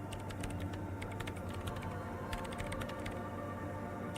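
Rapid typing on a computer keyboard in Disco Elysium, a quick irregular stream of soft key clicks over a steady low hum, fairly quiet and with no talking.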